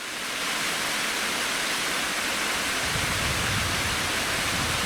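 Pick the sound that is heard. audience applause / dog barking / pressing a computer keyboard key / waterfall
waterfall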